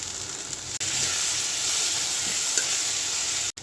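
Mrigal fish pieces with turmeric, chili powder and a little sour yogurt sizzle and hiss steadily in a pan, a continuous close frying sound with two brief dropouts.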